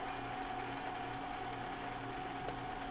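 A sewing machine zigzag-stitches the edge of linen for a tank top, its rapid needle chatter running steady and close, with a faint motor whine underneath and no talk.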